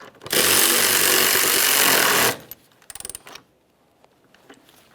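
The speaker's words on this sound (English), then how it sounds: "Start in the mounting bolt and snug it up." A power tool runs hard for about two seconds while snugging an engine mounting bolt on a 2007-2017 Jeep Patriot with the 2.4L four-cylinder, followed by a brief rattle of tool or parts clicks and then near silence.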